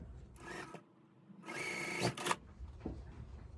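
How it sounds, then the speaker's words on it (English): A sewing machine stitches quilt block fabric in two bursts of steady rapid whirring, a short run and then a longer one ending in a few clicks, close and fairly quiet. "Go ahead and sew on to the bottom here."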